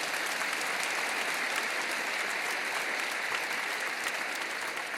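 Congregation at a 2016 Korean Easter union worship service applauding in steady, dense clapping that fills the whole stretch at an even level, with no talk over it.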